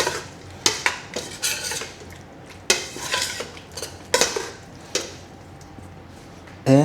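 Zucchini being stirred in a frying pan for a chicken stir-fry, with repeated clanks and scrapes of a utensil against the pan in an irregular rhythm, close and clear, with a faint sizzle beneath.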